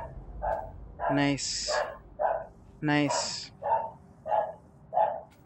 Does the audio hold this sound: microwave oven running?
no